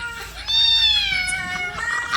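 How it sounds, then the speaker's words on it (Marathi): A cat gives a single drawn-out, clear meow close by, rising and then falling in pitch, with a short second call at the end. "लगेच म्याव म्याव करत आला"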